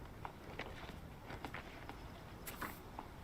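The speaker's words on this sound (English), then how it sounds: "making sure he's hearing the footsteps of Crazy Dog over here" Footsteps in the Delta Force PC video game during an operations mode tournament match, a faint, quick series of soft steps spread across a few seconds.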